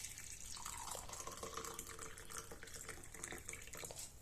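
Boiled water poured into a cup holding bay leaves, a continuous close splashing trickle throughout with no talk.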